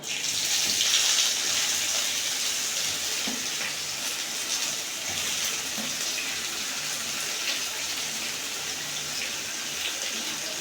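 Onions frying in a pan for a boro fish dish, giving a steady, fairly loud hiss and sizzle that runs through the whole stretch with no voices.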